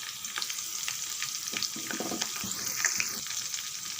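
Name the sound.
dried chili, curry leaves and asafoetida frying in oil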